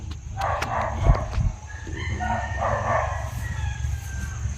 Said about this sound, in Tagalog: may mga boses pa ng mga manok na ligaw dito